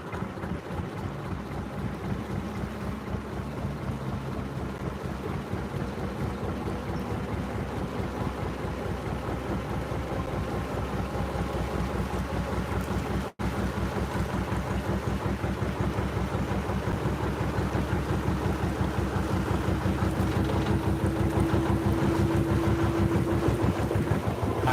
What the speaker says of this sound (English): when I wind the speed wheel on nice and slow and bring the revs up real gentle